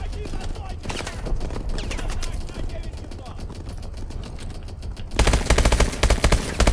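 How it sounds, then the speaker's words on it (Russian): Rapid automatic gunfire from Call of Duty: Advanced Warfare, with scattered shots early on, then a loud, close, fast rattling burst near the end. "Хорошо стреляет"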